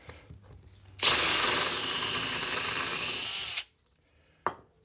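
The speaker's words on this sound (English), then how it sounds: "Drill that hole." A power drill bores a hole through a cut-off threaded chunk of an old bolt. It is one loud, close, steady whir of about two and a half seconds, followed by a brief clack.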